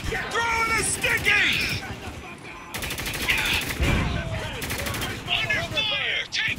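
Heavy gunfire from a Spec Ops: The Line battle, with rapid automatic bursts and single shots crackling close and loud through the whole stretch while soldiers shout over it.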